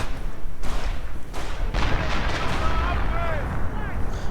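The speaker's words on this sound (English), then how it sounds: "And we are seeing a sector artillery going down. Sector artillery mission." Sector artillery barrage in a World War II strategy game, with heavy booming impacts and crackling blasts rolling steadily across a few seconds, under a caster talking over the action.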